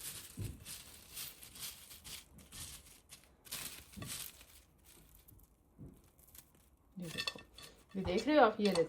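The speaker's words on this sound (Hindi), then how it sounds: "ये देखो मैं कैमरा करीब करती हूँ और आपको इसका क्रंच सुनाती हूँ" Fried onions for haleem are handled on a plate, giving scattered crisp crunching and crackling bursts close up, with someone talking softly between them.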